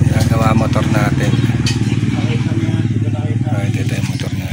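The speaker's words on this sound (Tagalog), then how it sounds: "Ay, ito yung motor natin." A motorcycle engine idles steadily close by, its low rumble constant throughout with a faint rattle on top.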